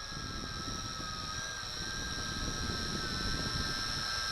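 A Yizhan i8h Tarantula camera drone hovers with its throttle lowered, giving a steady, fairly faint, high-pitched motor whine with a slight rise in pitch toward the end.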